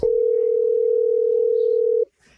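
A phone rings while a call is placed, a single steady electronic ring tone held for about two seconds before cutting off, clear and alone.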